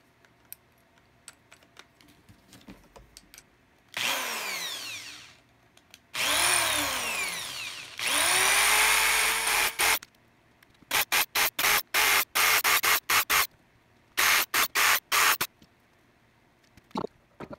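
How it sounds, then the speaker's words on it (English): Power drill boring with heavy drill bits into a water-damaged Canon 100-400mm lens, several sustained whining bursts with rising pitch, then a string of short rapid stop-start pulses, loud and close with no talking. "I decide to use more powerful drill bits."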